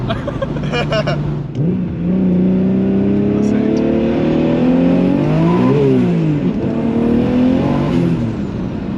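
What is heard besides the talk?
turbocharged manual-swapped car accelerating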